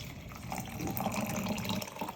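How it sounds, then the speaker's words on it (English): Water is poured into homemade ginger and beet juice, a steady close-up splashing trickle lasting a couple of seconds with no talking. "I'm going to add a little bit of water in here."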